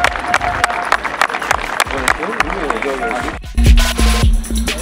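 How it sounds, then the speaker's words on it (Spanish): Crowd at a children's football league event applauding, scattered clapping mixed with cheering and background chatter and movement, rising louder toward the end. "Les pedimos por favor si nos pueden acompañar con un aplauso para el reconocimiento de Mario."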